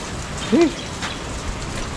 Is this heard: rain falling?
yes